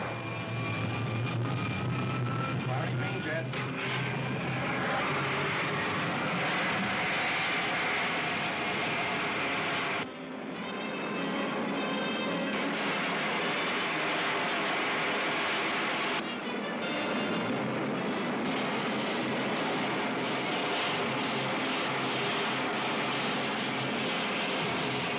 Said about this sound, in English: Firing main jets.